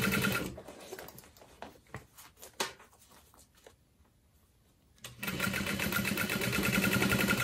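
A sewing machine stitches a satchel bag, its fast, steady whirr running loud and continuous near the end after a quieter stretch of lighter handling noises and a near-silent pause.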